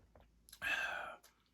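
A sip of Arizona green tea with cucumber sake, a close, brief slurping gulp lasting about half a second, preceded by faint handling noises and followed by a soft exhale, quiet and with no talking.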